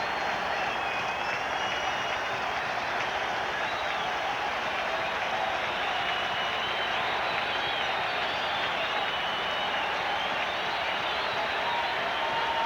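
A Mets home crowd roars steadily throughout a 1989 baseball game against the Reds in the stadium, a dense, even wash of cheering and applause with no break.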